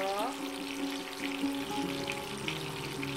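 Food frying in a pan in a home kitchen, a steady close sizzle running throughout, with faint tonal humming sounds drifting over it.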